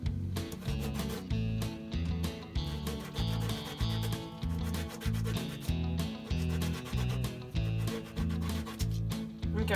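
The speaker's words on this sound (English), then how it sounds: "once you have it sanded down to shape," A foam fishing bobber sanded to shape by hand, steady rhythmic back-and-forth rasping strokes, close and even, with no talking.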